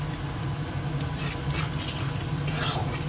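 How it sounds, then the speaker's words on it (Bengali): Masala with ginger and garlic frying in a pan. A steady sizzle runs close by, with a spoon scraping and stirring through it and no talk. "এবার একটু ভেজে এটাকে মশলাটা রেডি করে দেব আদা রসুনটাও দিয়ে দিলাম"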